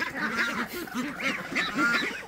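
Ducks and other poultry calling together in a farmyard, a steady run of overlapping quacks and honking cries, close and fairly loud throughout.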